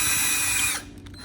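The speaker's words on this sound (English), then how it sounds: "So I'm going to drill some holes in there." A power drill bores into the very hard plastic of a Camry's rear bumper, whining loudly and continuously before cutting off abruptly, leaving a quieter mechanical rattle.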